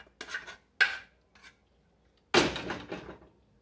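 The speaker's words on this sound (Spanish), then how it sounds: "Recogemos bien todo lo de nuestro sartén, procurando que no le quede nada y todo nos quede en nuestro refractario" Mushroom dip scraped from a frying pan into a baking dish with a utensil: a few separate clattering scrapes and knocks, loud and close, with short pauses between them and no talking.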